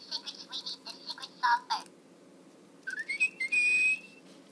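A Little Live Pets Secret Songbird toy whistles indoors in short chirping bursts, then rising slides and a sustained high tone, close and fairly quiet with pauses between phrases.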